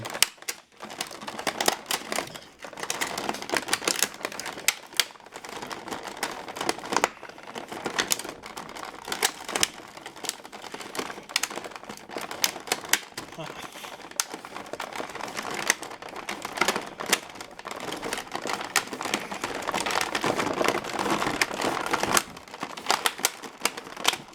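Rapid plastic clicking, snapping and crinkling up close as a DC Multiverse Swamp Thing action figure is worked free from its blister packaging, continuous busy handling noise.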